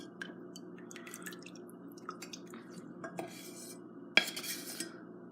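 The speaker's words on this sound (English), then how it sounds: "we are going to strain it, and I'm just going to pour it right back into this measuring cup" Heated oil is strained and poured into a measuring cup indoors, giving faint trickling and dripping with light clinks of metal and glass, then a sharper clatter near the end.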